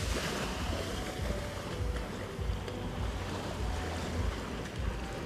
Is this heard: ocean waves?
yes